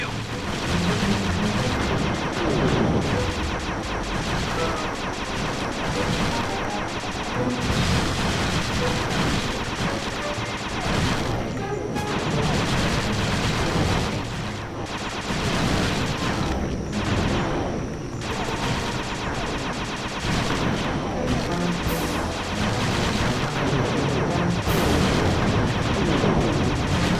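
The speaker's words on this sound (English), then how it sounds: "Shoot down the enemy missiles before they hit you." A rusty pre-war turret in the Sly 2 video game blasting away at incoming enemy missiles, a dense, relentless barrage of loud booming shots and crashing impacts that runs without pause from start to finish.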